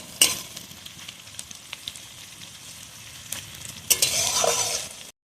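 Figs frying and being stirred in a pan, a steady sizzle broken by scraping stir strokes near the start and louder, denser stirring and sizzling toward the end, close and alone with no talk.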